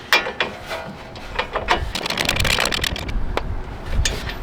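Ratchet clicks and metallic scraping from tightening a bolt on the upper control arm of a 2019-2025 Chevy Silverado or GMC pickup during a 2-inch leveling kit install, with rapid bursts of clatter, close by.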